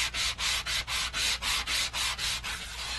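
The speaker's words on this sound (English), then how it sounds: "Sanding those edges just a little bit." Paper edges around a stenciled design are sanded in about ten even back-and-forth strokes, a close, soft rasping rhythm that fades slightly on the last pass.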